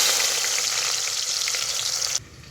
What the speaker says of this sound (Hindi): ये ज़ीरा थोड़ा सा क्रैकर करेगा